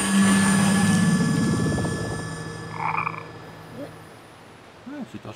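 A toad in The Sims 3 croaks in a low, buzzing, pulsing call that fades out, followed by a few faint game chimes and blips.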